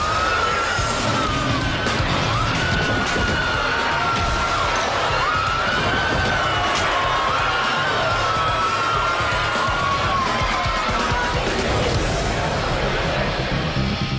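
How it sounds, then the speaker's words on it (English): A tennis stadium crowd in a riot roars continuously, a loud, dense wall of yelling and jeering that never lets up, with shrill whoops and whistles rising above the din. "This crowd obviously disagreed, and they began throwing different things and yelling"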